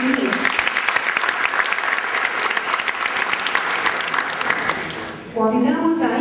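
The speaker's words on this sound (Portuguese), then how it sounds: "Os aplausos ao professor Dr." Loud, dense applause for Professor Dr. Eliezer Martins Diniz fills a hall at an academic ceremony, steady for about five seconds before briefly dipping and a voice begins to speak over a renewed swell.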